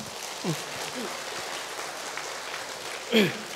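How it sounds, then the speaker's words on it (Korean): Congregation at a Catholic healing retreat clapping together in a church hall, a steady, dense wash of applause throughout with voices briefly rising over it. "주님께 박수 한번 쳐드리세요."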